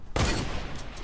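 A single sharp, loud gunshot in a shooter game, cracking near the start and trailing off into a rumbling tail.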